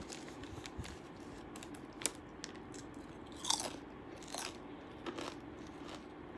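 Crackers crunch and snap between the teeth in a few quiet, scattered bites against a faint room hush, close to the mouth with no talking.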